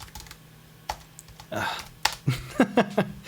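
Computer keyboard keys tapped in a few short, irregular clicks and clusters, close and distinct, with brief pauses between strokes and soft background hum.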